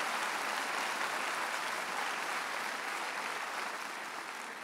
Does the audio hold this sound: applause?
yes